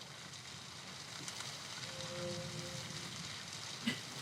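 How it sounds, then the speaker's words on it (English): Soft rain falls steadily in the game Season: A Letter to the Future, a faint, even patter of drops with a few louder taps, heard alone at low volume. "we can record the sounds of the rain"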